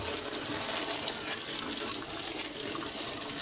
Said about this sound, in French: Avec l'eau chaude, on mouille le carton et le carton va s'enlever assez facilement.